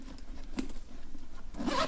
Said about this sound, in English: And then if you unzip it